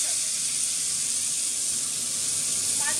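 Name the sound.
tomatoes sizzling as they fry in hot oil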